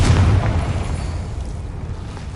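A heavy Confringo spell blast from the Hogwarts Legacy video game lands as a single deep boom with a rumbling tail that slowly fades.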